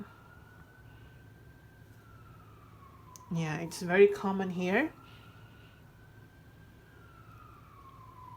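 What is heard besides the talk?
ambulance siren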